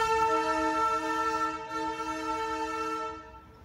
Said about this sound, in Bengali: সোনাদা স্টেশন ছেড়ে আমাদের ট্রেন এগিয়ে চললো তার পরবর্তী স্টেশন টুংগের দিকে।